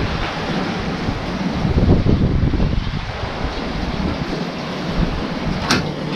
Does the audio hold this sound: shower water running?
yes